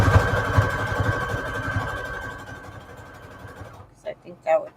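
A sewing machine stitches a straight line over zigzag stitching on paper scrap trim, a fast, close mechanical rattle that runs steadily for several seconds and then stops, followed by a person speaking.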